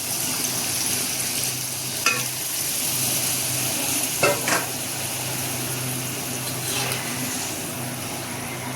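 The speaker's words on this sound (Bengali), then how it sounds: "কষানো হয়ে গেছে, এবার আমি জল দিয়ে দেব ঝোলের জন্য" Water hits a fried potato and soya chunk curry masala in a pan, giving a steady close sizzle and bubbling hiss with a few brief clinks and scrapes, no voices.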